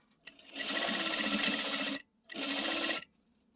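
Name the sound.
sewing machine stitching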